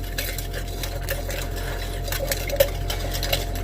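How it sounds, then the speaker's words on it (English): MLCC material is stirred in distilled water, producing light, repeated clinking and scraping ticks against a container over a steady low hum, with one sharper clink partway through. "Stir this up best as possible."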